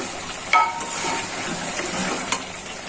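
Beef head meat sizzles steadily in oil in a pan as it finishes braising, with a broad crackling hiss throughout and a couple of sharper pops or utensil clinks near the start and end.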